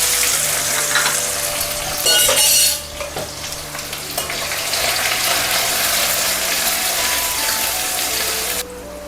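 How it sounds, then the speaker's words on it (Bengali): Onions fry in hot oil with a loud, steady sizzle, while a utensil stirs and scrapes them with rhythmic clattering throughout. "পেঁয়াজটা একটু নাড়াচাড়া করে ভেজে নিই"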